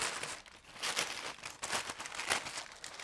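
Paper being handled and crumpled while fixing it to the inner side of a quick bouquet holder made for marshmallow roses, a close, steady crinkling with several louder rustling bursts and no talk.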